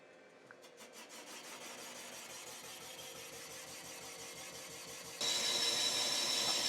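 A rotary tool grinds through rust in a cylinder of a water-damaged Chevy 396 big block. It makes a steady, close, rhythmic mechanical whirr that turns into a louder, harsher scraping hiss near the end.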